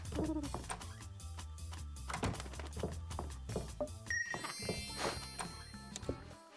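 Pigeons in a rubbish bin coo softly in low, repeated murmurs, with occasional dull thunks and faint rustling around them.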